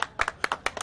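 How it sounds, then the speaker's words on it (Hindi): An audience at a singing talent show in Uttar Pradesh claps in a few sharp, scattered bursts. The claps are close, brief and uneven, with no voices over them. "तालियां"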